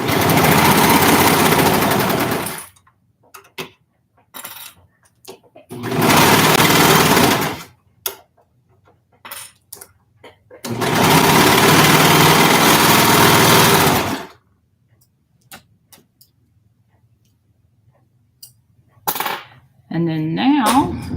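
A sewing machine stitching fabric seams for a roller derby bralette and shorts runs in loud, close bursts of rapid mechanical whirring, three long runs separated by quiet pauses with small handling clicks.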